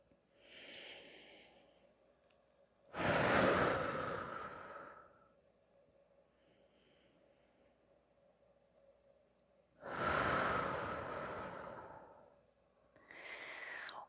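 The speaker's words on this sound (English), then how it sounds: "A few rounds of breath here." Slow, deep breaths during a yoga flow, each long exhale swelling loudly then fading, with two full breaths separated by quiet pauses and a third beginning at the end, close and unaccompanied by talk.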